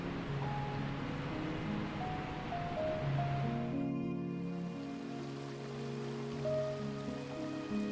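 A glacier-fed waterfall in Pakistan drops about 55 metres into a clear pool, giving a steady, broad rushing hiss throughout, partly overlaid by sustained musical tones.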